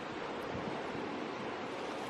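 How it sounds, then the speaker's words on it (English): Ocean waves crash against the shore of a tropical island beach, a loud continuous roar of surf and wind with no pauses. "Ocean waves crash against the shore."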